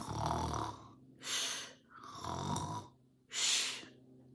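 A storyteller and young listeners imitate a sleeping hare's snoring with their voices, alternating drawn-out rasping inhales and breathy exhales, about four strokes in a slow steady rhythm, close and fairly loud.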